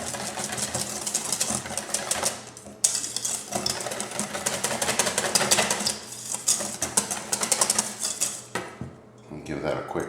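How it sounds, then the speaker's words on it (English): A whisk stirring lemon juice into ranch dressing in a bowl, a steady fast scraping and rattling of wire against the bowl, close and continuous with a couple of brief pauses, while a voice speaks faintly underneath. "Give that a good whisk."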